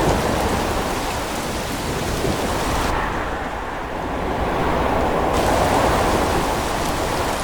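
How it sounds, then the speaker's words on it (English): Thunder and heavy rain sound effect for cinematic sound design: a dense, continuous roar of rainfall with a low rumble underneath, steady throughout with a slight swell toward the end. "this is a blue sound because it is thunder"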